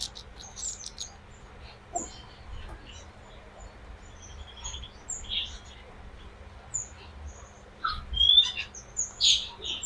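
A magpie-robin chick, being handled in an aviary while it is ringed, gives short, high chirps and squeaks. They come in scattered bursts over a low background hum and grow a little louder toward the end.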